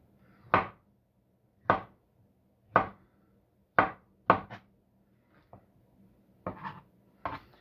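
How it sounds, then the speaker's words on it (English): A kitchen knife slices through an avocado onto a cutting board, giving about eight crisp, close knocks spaced roughly a second apart, the last few coming quicker and softer. "This one we're just going to cut right here."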